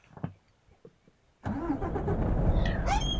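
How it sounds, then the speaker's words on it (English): Mercedes-Benz Actros truck engine in Euro Truck Simulator 2, heard from the cab: a few faint clicks, then the engine cranks and catches, settling into a loud, steady rumbling idle with a slight rev. "Right, I'm going to start the engine from inside this time."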